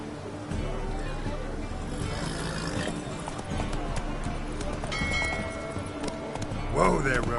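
Hoofbeats of the horse Roach galloping in a video game near Novigrad, rhythmic clip-clop under a voice, with a whinny near the end.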